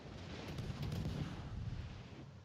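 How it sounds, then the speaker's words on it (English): Warship guns boom in World of Warships Legends, a dense rumbling salvo of heavy low blasts rolling together for a couple of seconds, loud and close with no talking. "How fucking dare you shooting your guns, huh?"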